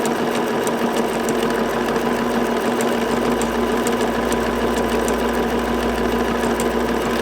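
A sewing machine runs steadily at a medium pace, stitching decorative stitches along the fold of a table runner, a continuous close mechanical whir with a faint rapid needle tick throughout.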